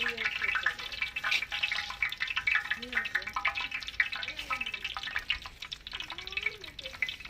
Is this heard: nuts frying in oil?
yes